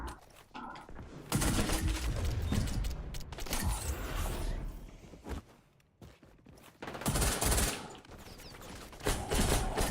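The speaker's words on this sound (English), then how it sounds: "Ah, somebody's shooting me." Video game gunfire: bursts of shots ring out in clusters, loud and close at times, with pauses of quieter background between volleys.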